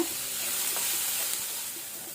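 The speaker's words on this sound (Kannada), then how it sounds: "ಈಗ ಈರುಳ್ಳಿಯನ್ನು ಒಳ್ಳೆ ರೀತಿ ಮೀಡಿಯಂ ಫ್ಲೇಮಲ್ಲಿ ಫ್ರೈ ಮಾಡ್ಕೊಳ್ಳುವ." Onions frying on a medium flame in a small pan, a soft, even sizzle with occasional light scrapes of a spatula, close but moderate in level and without talk.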